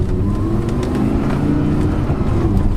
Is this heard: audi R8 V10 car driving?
yes